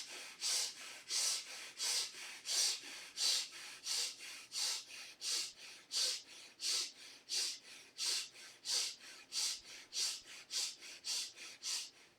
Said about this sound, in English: Now you start breathing from the chest.